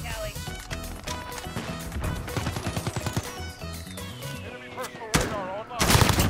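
Rapid bursts of gunfire and heavy shotgun blasts from the shooter game Call of Duty Modern Warfare, in the Shoot House map, crack close and loud in dense clusters, with a sharp blast near the end and a voice talking over the action.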